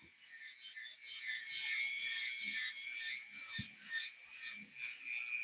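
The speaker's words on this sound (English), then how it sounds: "what I have the wire wheel attached to is actually a buffer, because it's got the longer spindle on it" A wire wheel mounted on a long-spindle buffer scrapes a workpiece in a steady rhythm of bright, rasping strokes, each about half a second long, close and moderately loud.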